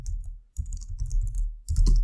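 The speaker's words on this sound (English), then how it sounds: "And I would just type kubectl delete" Quick bursts of typing on a computer keyboard as a kubectl command is entered, with close, crisp key clicks in two clusters separated by a short pause.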